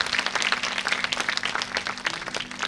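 Audience applauding the actor playing Henry Higgins at an annual college English play of Pygmalion, dense continuous clapping with a faint steady hum underneath, close and fairly loud.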